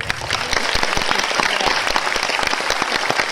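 An audience claps at a stage event, with dense, sustained applause of many hands throughout and no voices above it.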